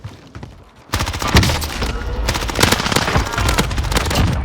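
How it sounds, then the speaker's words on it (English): Rapid bursts of automatic gunfire and scattered single shots ring out in a first-person military shooter video game, loud and dense after a quiet opening, continuing without pause over faint background battle noise. "Taking fire over here."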